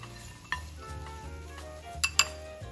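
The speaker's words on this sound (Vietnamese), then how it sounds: "Rồi thì mình sẽ trút cái phần tóp mỡ hành phi này ra ngoài cái tô" Fried pork cracklings and crispy shallots tipped from a pan into a bowl for Vietnamese noodle soup, heard as light clinks and clatters of cookware and utensils with a couple of sharper metallic knocks, close and fairly quiet.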